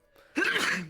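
A single sneeze breaks out abruptly after a faint breathy lead-in, close and fairly loud, with a short trailing exhale, during a podcast conversation.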